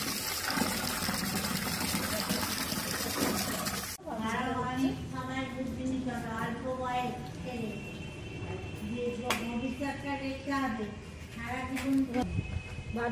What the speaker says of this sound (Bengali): ভালো করে গামলায় ফেলে ধোয়া হচ্ছে।